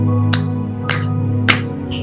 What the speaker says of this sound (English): I'm going to snap my fingers 3 times